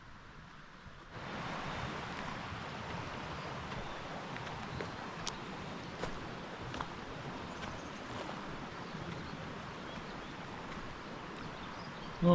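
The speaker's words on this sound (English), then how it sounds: "Oh, is it raining? See the drops hitting the water over there?" Rain falling on water at a campground in the Old Milford District, a soft steady hiss of drops beginning abruptly and continuing evenly, with faint scattered ticks and no talk.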